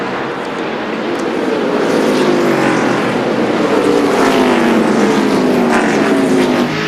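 NASCAR stock cars roar around the track at the 2002 Virginia 500, a loud continuous engine drone with pitch sliding down as cars sweep past, no talk over it.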